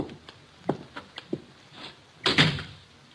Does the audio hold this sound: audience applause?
no